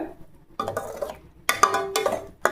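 Ground paste for pea curry is lightly sautéed in a pan, heard as a few short bursts of a spoon scraping and clinking against the metal, close by with quiet pauses between strokes.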